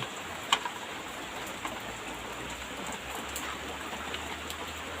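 Steady rain falls with a constant hiss, a few louder drips landing nearby, no voices.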